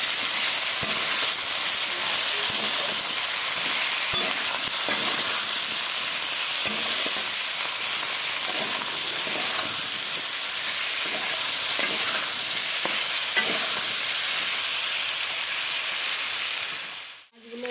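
Fish pieces frying in a pan with turmeric, for a fish curry with ridge gourd and potato, a loud continuous sizzle with faint spatter ticks throughout, cutting off abruptly at the end.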